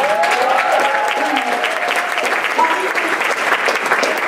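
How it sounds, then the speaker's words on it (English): A crowd applauds steadily and loudly throughout, dense clapping that never lets up, with a faint tone ringing faintly beneath it. "Can we give a round of applause for music in the back?"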